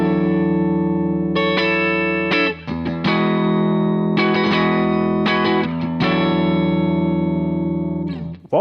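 Electric guitar through a Brunetti Mille CR amp with a shimmer effect, sustained chords ringing with bright, layered modulation and slight grit, briefly muted between strums before swelling again, loud and close.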